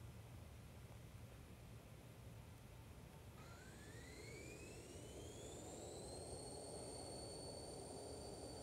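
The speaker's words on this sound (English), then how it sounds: "take off in my airplane inside of Unity" Airplane takeoff in a Unity-built flying game: a steady broadband engine roar builds throughout, with a rising whine sweeping upward partway through as the aircraft throttles up, loud and continuous with no talk.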